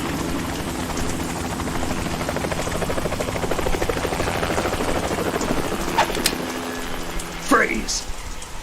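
A helicopter in the Metal Gear Solid 2 video game drones with a steady rotor thrum and whine throughout, over a rain-like hiss, with a few sharp metallic clicks and a brief swooping tone near the end.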